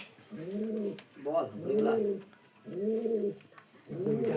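A ten-year-old pet pigeon coos close by in repeated throaty, rolling phrases, about four calls in quick succession, with a few words spoken between them.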